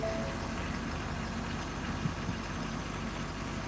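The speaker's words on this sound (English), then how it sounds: "Diesel motor sounds good." A low, steady idle from the diesel engine of a 2018 Ford F-250 pickup rumbles quietly and evenly throughout, with nothing else standing out.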